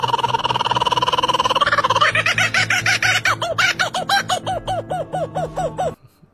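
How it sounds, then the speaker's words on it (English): A kookaburra's call, opening as a steady rapid chatter that breaks into loud, rising-and-falling cackling hoots in an accelerating rhythm, close and clear before stopping abruptly. "Kookaburra."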